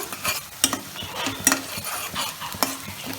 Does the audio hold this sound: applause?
no